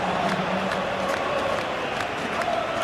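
Stadium crowd in a football video game on a clear evening before kickoff, a steady dense roar of many voices with faint cheers, continuous and fairly loud.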